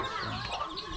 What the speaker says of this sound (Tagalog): ito yung pato gustong pumasok.